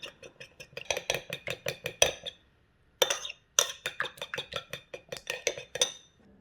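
A utensil mixes Maggi sauce and vinegar in a dish with rapid, rhythmic metallic clinks against the bowl. The clinking is close and alone, with one brief pause midway.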